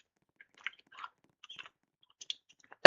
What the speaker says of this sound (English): Is the crunching loud?